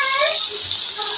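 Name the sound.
rinsing split moong dal lentils by hand in water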